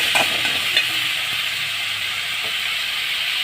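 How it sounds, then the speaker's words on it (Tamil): Tomatoes with salt and turmeric sauté in a pan with a continuous close hiss and sizzle, along with a few faint stirring clinks and no speech. "தக்காளி போட்டு நல்லா வதக்கிக்கோங்க."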